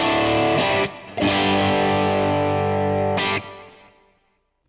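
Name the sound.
electric guitar through Quad Cortex capture of Black Eye Boost pedal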